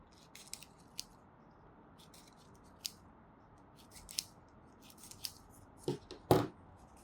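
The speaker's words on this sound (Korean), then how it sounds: "먼저 띠지를 좀 잘라 주시고요." Scissors snip a paper band strip for a glowing LED hibiscus flower craft, giving a handful of short, sharp cuts scattered over quiet room tone, with the last snips near the end loudest.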